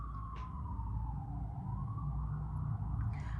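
Emergency vehicle siren passing outside, a steady wailing tone that slowly falls then rises again across the whole stretch, heard at moderate distance over a low rumbling background with no talk.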